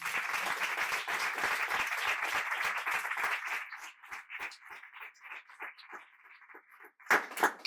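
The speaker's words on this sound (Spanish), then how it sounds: "Yo pediría un aplauso para Monse." An audience applauds at a talk on violence against women under Franco, with dense clapping that thins into scattered claps before a brief louder burst near the end.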